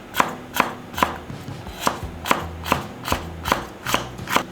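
A knife chops Fresno chilies into rings on a cutting board, sharp regular thuds about every half second, close and clear with no talk.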